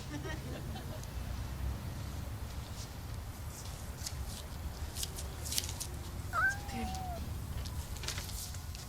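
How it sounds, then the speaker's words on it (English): Julio the cat lets out a single short, faint meow partway through, set against quiet room noise and a low background hum. "This is a cat, okay? Julio the cat. Not mom, cat."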